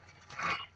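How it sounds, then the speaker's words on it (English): A single short snarling bark or growl from a zombie dog in a Black Ops video game, close and fairly loud, lasting under a second. "Dude, there's dogs. They're like zombie dogs."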